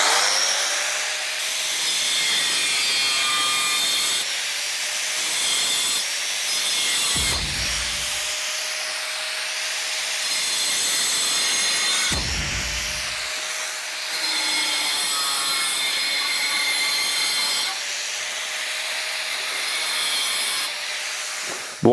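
Angle grinder with a multi-material cutting disc slicing through metal studs, a loud sustained high whine and grinding rasp in long passes, broken by brief jerky pauses and restarts.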